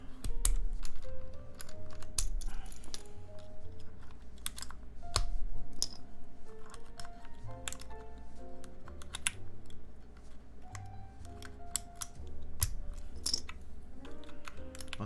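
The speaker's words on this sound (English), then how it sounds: "I have a keypad here that I'm gonna just take out the keys from." Numpad keycaps being pulled off a keypad, one after another, give close, sharp plastic clicks and clacks in an uneven rhythm over a steady low hum, with no one speaking.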